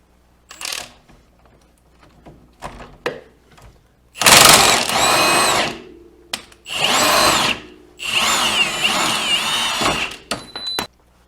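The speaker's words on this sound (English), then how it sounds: "So I'm going to go ahead, just put my impact on the other side here." An impact wrench works a bolt on a 1990–93 Honda Accord during a CV axle job. It fires in several loud bursts of whirring and hammering with short pauses between them, after some faint clicks and rattles, and no voice is heard.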